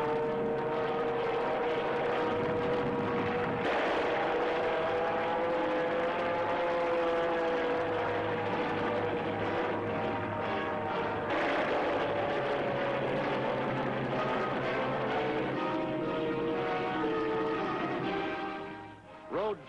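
World War II bomber aircraft engines drone in a steady, loud roar over the Normandy invasion coast, with the pitch slowly shifting as planes pass, sustained for about twenty seconds in an old 1940s newsreel recording.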